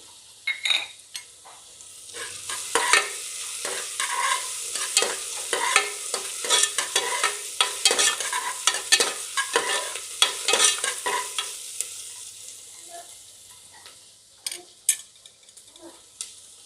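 Onions fry in a pan while being stirred briskly, a dense run of rattling scrapes and sizzling over a steady hiss that swells in the middle and thins toward the end.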